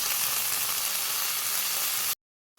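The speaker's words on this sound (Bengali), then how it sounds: "আমি চিংড়িটিকে আমি অল্প একটু জল দিয়ে দিলাম যাতে একটু সিদ্ধ হয়ে যায়" Shrimp sizzling hard in a hot pan just after a splash of water goes in, a loud steady hiss that cuts off abruptly into silence.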